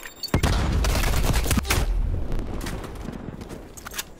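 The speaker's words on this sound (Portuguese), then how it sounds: "Artilharia." Artillery strike in Call of Duty: Black Ops Cold War: a loud, close blast followed by a sustained rumbling barrage with scattered secondary booms and gunfire cracks, no speech over it.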